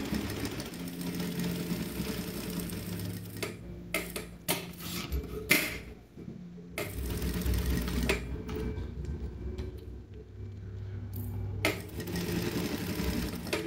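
A sewing machine stitches the tip of a fabric toiletry bag, running in rapid mechanical bursts with brief pauses and restarts, close and fairly quiet.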